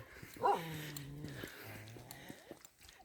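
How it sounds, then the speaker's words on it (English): A guard dog in a Dzao mountain village in Ha Giang, Vietnam, gives a single drawn-out whining bark-howl followed by a lower trailing yelp, faint and somewhat distant. "More guard dogs"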